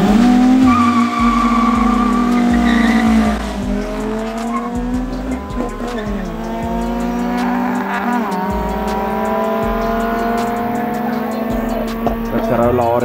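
Powerful drag racing car engines roar as they accelerate hard through the gears at Nasrec, including a Corolla RX, rising in pitch, loud and continuous with brief shifts.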